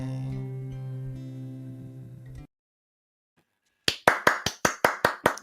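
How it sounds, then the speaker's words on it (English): A lone listener claps after a folk song, a tonal passage of the closing music followed by silence and then about eight crisp, evenly spaced hand claps, close and dry. "I'm sure loads of people are applauding, but just me for now."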